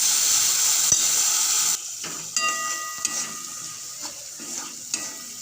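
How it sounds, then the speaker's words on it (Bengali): Spice masala of ginger, garlic, tomato and onion sautéing on a low flame for soybean curry, a steady soft sizzle with occasional stirring scrapes and light clinks of a spoon against the pan. "ভালোভাবে সমস্ত মশলাটাকে লো ফ্লেমে কষিয়ে নিতে হবে।"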